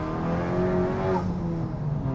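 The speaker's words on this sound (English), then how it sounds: "Turbo's making a lot of noises in the background there." A 300 kW front-wheel-drive Honda Civic Type R driven around Cape Town, its turbocharged engine droning steadily from inside the car with faint turbo whine layered over the road noise.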